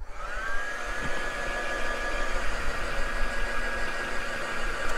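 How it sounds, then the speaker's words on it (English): A heat gun blows hot air over mixed-media artwork with a continuous, loud, steady roaring hiss and a faint whine over it that lasts the whole stretch, with no talk. "I need to zap it with a heat gun"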